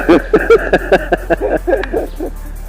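A small cockatoo in a zoo gives a rapid series of loud, harsh calls, repeated in quick rhythmic bursts close by, then trails off.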